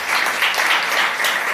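A church congregation applauds, a dense steady wash of clapping from many hands, fairly loud and continuous with no voices standing out.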